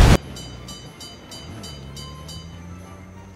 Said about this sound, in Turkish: Aşağıdan gelen başka bir tren.